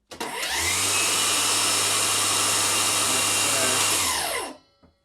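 A battery-powered workshop power tool spins up sharply, holds a loud, even whirring whine for about four seconds, then winds down to silence.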